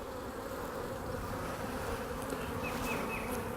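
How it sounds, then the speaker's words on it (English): Honey bees in a large, busy open hive give off a dense, continuous buzzing hum, close and steady throughout, with a few higher passing whines near the end. "we're going to open up a bigger hive here. It's got more bees."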